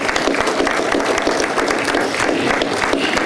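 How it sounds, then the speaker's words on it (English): A crowd at a Memorial Day remembrance ceremony at a national cemetery applauds the flag line; loud, continuous clapping from many hands, close and steady throughout. "Let's give them a round of applause."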